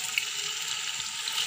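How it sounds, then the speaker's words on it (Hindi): Meatballs (kofta) fry in half a cup of oil in a pan, giving a steady, even hiss and crackle with no talking. "उसमें डालेंगे हम ये जो हमने मीट बॉल बनाए हैं वो, और इनको करेंगे हम फ्राई"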